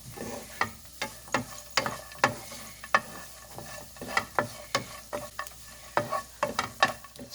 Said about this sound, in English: Roast cashews first. To this I'm adding some almonds, badam.